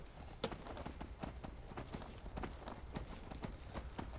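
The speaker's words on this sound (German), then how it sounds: "Wir reiten jetzt einfach mal hier weiter entlang." Horse hooves clip-clop at a steady walking rhythm while riding through a village in the video game Skyrim, a continuous close series of soft thuds over faint game ambience.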